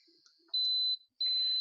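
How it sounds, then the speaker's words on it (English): Two long, steady high-pitched electronic beeps from an AkeyDIY automatic tumbler sublimation heat press before it clamps, the second following a brief pause, loud and close with faint background noise between them. "It'll beep, beep, and then it'll slowly clamp on it."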